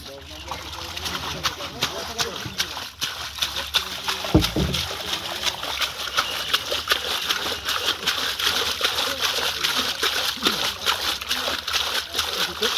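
Fish are poured into pond water during a release, with continuous splashing and sloshing close by and a heavier splash near the middle, while people talk throughout.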